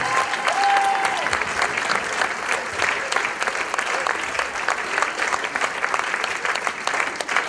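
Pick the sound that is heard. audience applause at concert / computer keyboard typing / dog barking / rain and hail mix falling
audience applause at concert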